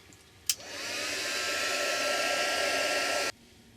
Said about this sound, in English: Maybe I could use the heat gun.